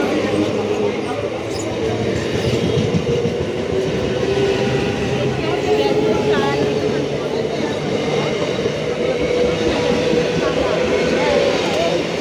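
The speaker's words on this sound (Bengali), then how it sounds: "চলে গেল ট্রেন।" A local train runs through Kanchrapara railway station, a loud, sustained rumble and rattle of wagons close by that continues throughout, with voices faintly mixed in.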